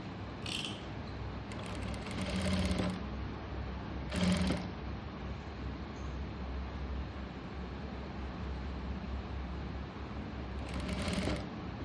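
Sewing machine stitching an umbrella frock runs steadily with a dense mechanical rattle, swelling into several louder, faster bursts of clattering needle action, close and continuous throughout.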